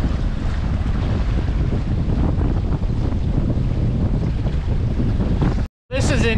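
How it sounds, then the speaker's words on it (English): Strong wind roars steadily across the microphone aboard a sailboat heeled over as it nears a harbor in windy conditions, with wave wash beneath; the loud buffeting drops out briefly near the end, then returns. "The wind is definitely stronger."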